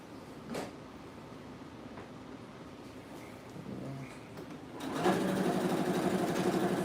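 A sewing machine stitches a skirt, a low steady motor hum that grows louder and busier over the last two seconds, with faint clicks and knocks of handling earlier on.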